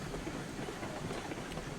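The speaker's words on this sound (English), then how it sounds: "train." A train rolls along the track in the railway game RailRoads Online, giving a steady, dense rumble with a faint rhythmic clatter that carries evenly throughout with no voices.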